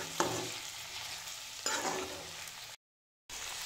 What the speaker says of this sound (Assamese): এতিয়া গোটেই মাংসখিনি দি দিলোঁ